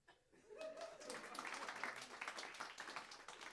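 Crowd at a comedy roast breaking into sustained applause, dense clapping swelling quickly and holding steady with scattered laughter mixed in.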